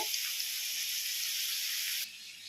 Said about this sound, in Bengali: ম্যারিনেট করে রাখা হয়ে গেছে, এটা এখানে ভাজা হচ্ছে